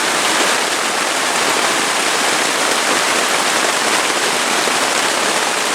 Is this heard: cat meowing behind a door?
no